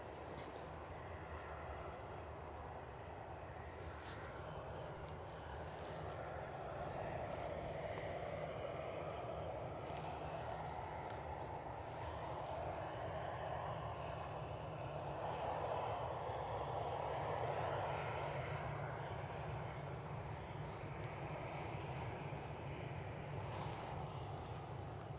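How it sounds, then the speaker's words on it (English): Boeing 757 airliner arriving at Edinburgh, Scotland, a faint, distant jet roar that builds slowly and peaks near the middle, with wind buffeting the microphone. "So we've got a 757."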